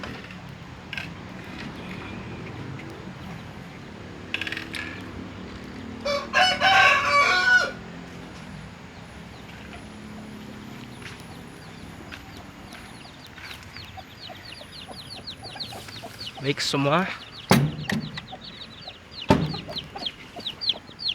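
Young chickens hatched by a simple egg incubator machine in a yard call out with scattered clucks and a short crowing burst, mostly faint and intermittent over quiet outdoor background, with a brief spoken word near the start.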